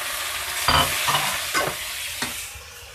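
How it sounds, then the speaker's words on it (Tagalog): Chicken pieces sautéed with ginger in a hot pan without oil for chicken tinola, giving a few scraping stirs and soft sizzling bursts over a steady low frying hiss. "lagay na po natin ang ating manok at saka igisa"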